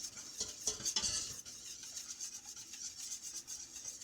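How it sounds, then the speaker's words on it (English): A whisk scrapes and stirs all-purpose flour into a roux in a pan, rapid faint metallic rubbing and stirring strokes, quiet and close with no talk. "now I'm going to put the 1 3/4 of all-purpose flour in here and whisk it in"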